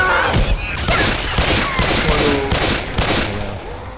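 Rapid bursts of gunfire in the zombie shooter game Left 4 Dead 2, dense and continuous for the whole stretch, loud and close with overlapping shots.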